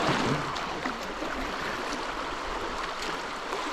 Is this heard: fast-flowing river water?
yes